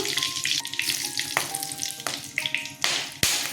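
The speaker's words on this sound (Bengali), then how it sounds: "রিফাইন অয়েল দিয়ে দিচ্ছি তার শুকনো লঙ্কা দারচিনি ছোট এলাচ লবঙ্গ ফোড়ন দিলাম" Dry chilli, cinnamon, cardamom and cloves temper in hot refined oil, a crackling sizzle with scattered pops and stirring knocks, ending in a few sharper clacks.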